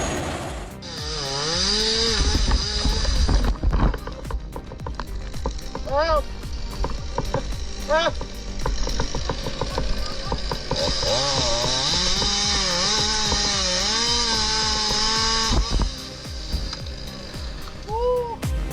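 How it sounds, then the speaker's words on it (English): A Comtech Axtor 80112 wood shredder with a 1050 HP engine tearing full poplar trunks into fine mulch: a loud, sustained grinding roar with surging engine pitch and crunching bursts, while a voice talks over it. "The Comtech Axtor 80112 churns up to 500 kbh with a 1050 HP engine, devouring full poplar trunks into fine mulch."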